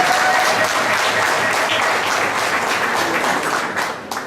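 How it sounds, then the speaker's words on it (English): An audience at a graduation ceremony claps in a steady, continuous round of applause that holds level for several seconds before thinning out and tapering at the end. "If I can get applause for her."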